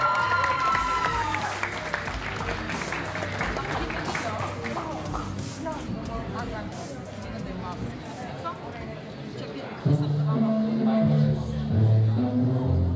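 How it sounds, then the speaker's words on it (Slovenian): Applause from an audience at a cosplay event greets a costumed contestant, a steady wash of clapping with crowd chatter that builds louder near the end over a musical tone. "En aplavz."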